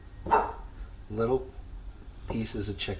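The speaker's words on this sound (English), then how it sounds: "Pardon my dog in the background" A pet dog named Pumpkin barks in short bursts in a home kitchen, three separate barks close by, with someone talking over and between them.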